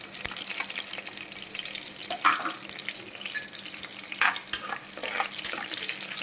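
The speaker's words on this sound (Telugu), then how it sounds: "మంచిగా ఆయిల్లో ఫ్రై అవ్వాలన్నమాట" Whole spices such as bay leaf, cinnamon, cloves and a few cashews frying in hot oil for vegetable pulao, a steady close sizzle with light stirring scrapes and occasional louder crackles, no talking.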